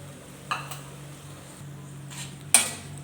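Lumps of jaggery drop into warm tamarind in a metal pan, giving a couple of soft clinks and scrapes followed by a sharper utensil knock against the pan, over a faint steady hum; no voices.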